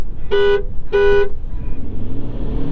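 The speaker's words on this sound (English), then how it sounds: "you want me to honk?" Two loud horn honks from a 2022 Ford Maverick pickup in quick succession, each about a quarter second, followed by its engine droning and revving nearby.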